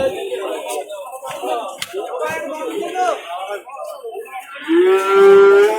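A cow gives a long, loud moo near the end, following a stretch of busy crowd chatter and market noise at a cattle market in Gazipur.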